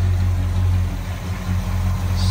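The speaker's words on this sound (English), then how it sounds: "Smooth running V8." A numbers-matching 400 four-barrel V8 in a 1968 Pontiac GTO with a four-speed idles smoothly close by, a steady low rumble held throughout with no talking.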